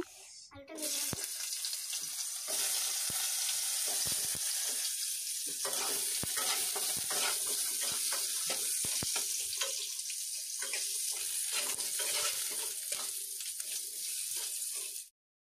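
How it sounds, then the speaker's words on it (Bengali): Potatoes frying in oil in a kadai, a loud, dense, continuous sizzle and crackle close by, holding steady for the whole stretch before cutting off abruptly. "আবারও কড়াইতে তেল দিয়ে আমি আলুগুলোকে লাল লাল করে ভেজে নেব।"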